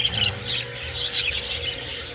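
Pet birds, big-size breeds two months old, chirp and tweet in short repeated bursts, fairly close and lively, with no talking.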